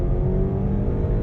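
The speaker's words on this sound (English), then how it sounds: "it's fair to do a quick little acceleration test here" A 2021 Chevrolet Blazer with the 2.5-liter four-cylinder accelerating during a test drive, a steady low engine drone heard from inside the cabin, loud and continuous with no talk.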